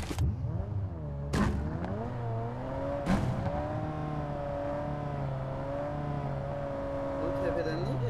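Car driving in PUBG Mobile, a steady engine drone with shifting pitch as it accelerates, heard under game sounds and overlapping speech.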